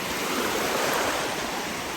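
Waves washing onto a beach, a continuous broad hiss of surf at moderate distance with no distinct breaks, steady and fairly quiet.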